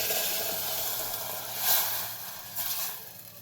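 Soaked rice and coconut milk go into a hot pan for ghee rice, a broad hissing sizzle swelling briefly twice and then settling into a steady simmer.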